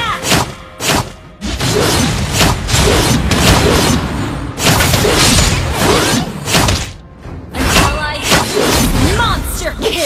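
A turret is destroyed in the mobile game Mobile Legends, with loud dense booms and crashing impacts that rise and fall over game music and effects and an announcer voice.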